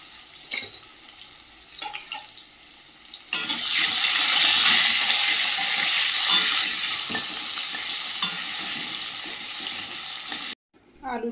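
Potatoes with salt and turmeric hit hot oil in a pan and erupt into a loud, steady sizzle that holds for several seconds before cutting off, preceded by a few light clinks.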